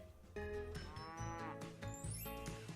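A cow moos loudly and close by in a farm setting, one long drawn-out low call that rises and wavers, with a second shorter moo following. No one speaks.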